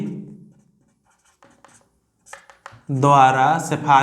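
Pen scratching on paper while working a math problem, soft intermittent strokes at first, then a person starts speaking over them.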